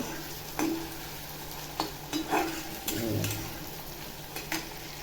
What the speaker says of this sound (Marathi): आता टॅमॅटो टाकते टॅमॅटो पण चांगला असा तेलामध्ये परतून घ्यायचा